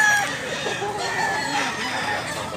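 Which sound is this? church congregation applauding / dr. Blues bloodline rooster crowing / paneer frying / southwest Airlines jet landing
dr. Blues bloodline rooster crowing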